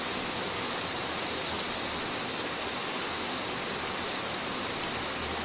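Steady rain falls without a break, a dense and even hiss of drops with no voices over it.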